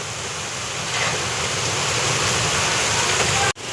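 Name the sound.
rain falling on a truck windshield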